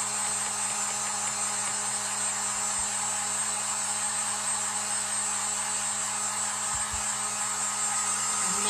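A heat tool blows steadily on a large handmade craft lighthouse piece to dry it, a constant loud whooshing hum running unbroken from start to finish with no talking.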